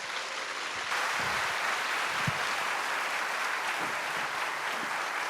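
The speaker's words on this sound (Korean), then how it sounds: "큰 박수로 맞이해 주십시오." A church congregation at a joint Seoul–Gyeongin regional worship service gives the pastor a big round of applause as he comes forward. The dense, steady clapping fills the hall for the whole stretch, with no talking.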